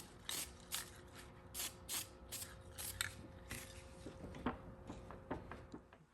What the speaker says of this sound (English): These two cans really spray pretty nice.